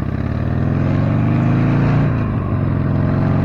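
A motorcycle with a freshly repacked slip-on exhaust revs close up on a riding day in Carthage, upstate New York, its engine holding a steady loud drone with a slight rise and dip midway, no talk over it.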